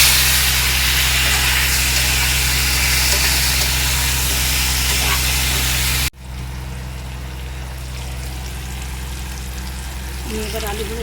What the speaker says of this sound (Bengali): এবার আমি আলুটা ভেজে দিই।